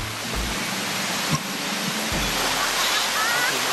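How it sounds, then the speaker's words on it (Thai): Huay Kaew waterfall, an old waterfall near a walking path, gives a steady, broad rush of falling water close by, with a few low thumps and faint background sounds. "อ๋อน้ำตกห้วยแก้ว อยู่ใกล้ ๆแล้วครับ"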